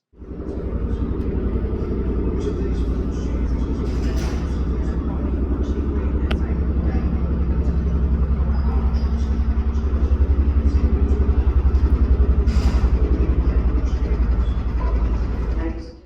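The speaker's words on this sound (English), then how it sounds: "Engine started, it's time to taxi to the runway." A Saab 340B turboprop engine starts and drones close by on the tarmac, a steady low pulsing rumble that holds loud and even throughout with faint background noise.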